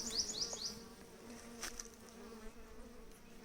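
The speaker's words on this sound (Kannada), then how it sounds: "ಈ ಜೇನು ಪಡೆ ತೋರಿಸ್ತೀನಿ." A honeybee colony humming at a hive, a low steady drone of many bees with individual buzzes passing close by now and then, faint and alone without speech.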